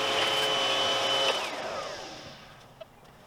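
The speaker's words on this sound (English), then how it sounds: "vacuuming up all the little dust and stuff and making it nice and clean" A vacuum cleaner sucks up dust around a basement window set in concrete. It runs with a steady, close whine, then spins down and fades out, with no voices.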